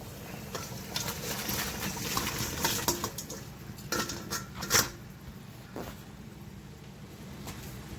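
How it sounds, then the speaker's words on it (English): Live crawfish are tipped into a boiling pot outdoors at a crawfish and shrimp boil, with a steady rolling boil under clattering, splashing knocks and a sharp metallic clank partway through. "And this is our crawfish. We're gonna throw it in the pot."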